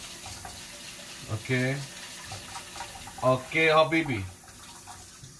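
Rice being rinsed in warm water in a kitchen sink, with running tap water as a steady wash under the bursts of someone talking close by.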